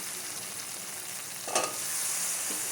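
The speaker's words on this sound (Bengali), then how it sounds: "এটা কষে গেলে ছোলাগুলো দিয়ে একটু কষিয়ে নেব।" Kabuli chickpeas fry in oil in a pan for a vegetarian chana paneer, a steady soft sizzle with one brief louder stir or scrape partway through, fairly faint and alone without voices.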